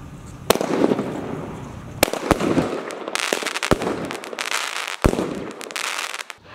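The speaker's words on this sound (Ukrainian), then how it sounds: "На витягнутій руці підпалюємо піротехнічну установку і відходимо на безпечну відстань." Pyrotechnic firework battery set off outdoors, a rapid series of loud sharp bangs and crackling bursts firing one after another with sizzling tails between shots.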